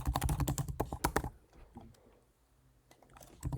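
Rapid clatter of keys on a computer keyboard as a username and password are entered, dense bursts of clicks for about a second, a pause, then typing resumes at the end; close and alone with no talk.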